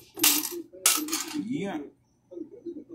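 Dirty, rusted old coins dropped and handled, two bright metallic clattering bursts close by, followed by someone talking afterward.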